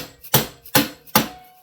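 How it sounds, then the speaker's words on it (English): A dead blow hammer strikes a part on a Chinese 70cc ATV engine three times, evenly spaced sharp, heavy thuds close up, each ending quickly in a short decay. "we're gonna give it some wax with a dead blow hammer."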